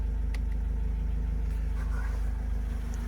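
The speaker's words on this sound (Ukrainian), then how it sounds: "Чуємо роботу мотора." A 2011 Renault Trafic 2.0 van engine idles steadily with a low, constant rumble and hum, heard up close and without voices.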